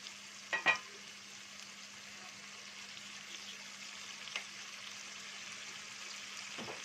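Spices and salt sauté briefly in a pan as the base for an okra tagine, giving a soft, steady sizzle with a couple of sharp stirring knocks near the start and faint scraping later.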